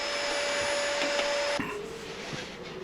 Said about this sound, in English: portable vacuum cleaner, one of my favorite tools.